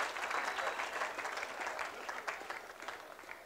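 Audience applause at an opening ceremony, a dense, steady patter of many hands clapping throughout that tapers slightly toward the end.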